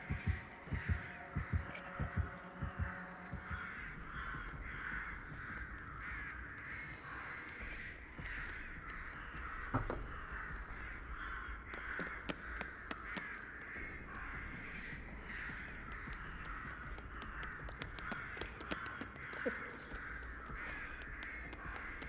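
Crows caw repeatedly in a video game, Dead by Daylight, over a steady low hum and rhythmic throbbing, calls scattered throughout, fairly faint and somewhat distant.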